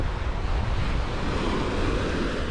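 Sea waves wash steadily onto the beach at Playa del Carmen, a continuous broad rushing surf with some wind noise on the microphone, close and fairly loud, with no talk.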